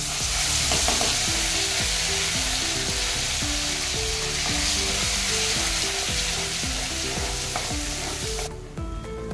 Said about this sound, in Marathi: आता याला आपण तेलामध्ये चांगला फ्राय करून घेऊया।